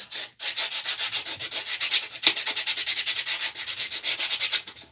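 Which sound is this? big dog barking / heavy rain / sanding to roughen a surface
sanding to roughen a surface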